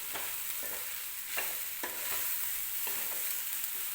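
Susla, a Karnataka breakfast mixture, stirred in a pan over the stove: a steady sizzling hiss with a spatula scraping through it in regular strokes roughly every half second, close and alone with no talking.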